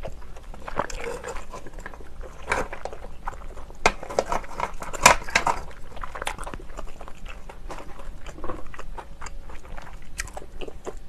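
Steamed clams and scallops chewed close to the mic at a mukbang meal: moist, squelchy chewing with irregular soft bites and smacks, steady and intimate, with no talking.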